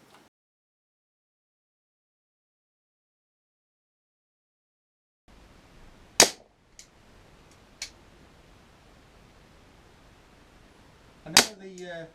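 Webley MkVI CO2-powered .177 rifled service revolver air pistol firing pellets: three sharp, fairly loud shots spread apart after several seconds of silence, with a couple of small clicks between them.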